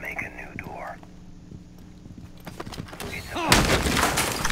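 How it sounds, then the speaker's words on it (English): Gunfire in Rainbow Six Siege coming through a wall, scattered muffled shots then a loud burst of fire near the end, with a low voice murmuring earlier. "He just shot me through a wall"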